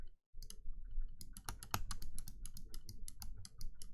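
Rapid clacking keystrokes on a computer keyboard, a steady run of close, crisp clicks with a few louder hits, alone with no voices.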